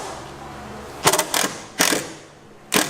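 A ratchet works on the coilover strut bolts of an E36 car, giving three or four short bursts of rapid metallic clicking separated by brief pauses, close up, with no talk.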